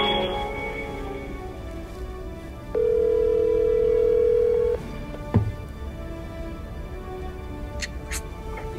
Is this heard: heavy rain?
no